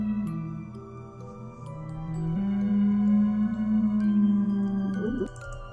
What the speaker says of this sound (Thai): อันนี้คือเสียงของสไปโนซอรัสนะผม